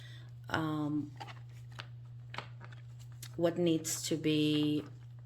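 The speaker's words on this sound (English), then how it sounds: "I'm shuffling once more" Tarot cards being shuffled, two bursts of crisp riffling and fluttering separated by quieter handling, close up over a steady low hum.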